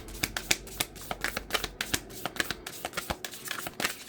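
Tarot cards are shuffled with quick, crisp snapping flicks in a rapid, uneven rhythm, close and fairly loud, with no voices.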